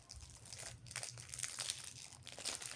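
A plastic package is unpacked close by, giving quiet, irregular bursts of crinkling and rustling as the thin wrapping is handled and pulled apart, with no talk over it.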